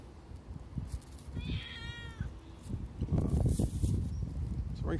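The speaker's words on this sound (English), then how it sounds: "It's a very friendly cat." A friendly street cat gives a short meow amid outdoor background noise, with rustling and shuffling sounds close by afterward.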